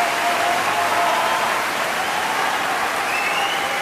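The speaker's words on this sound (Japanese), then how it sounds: "旭天鵬、そこに大歓声が沸き起こっています。" A sumo arena crowd cheers and applauds Kyokutenho as he leaves the ring after his last top-division bout, a dense, steady roar of clapping and voices filling the hall.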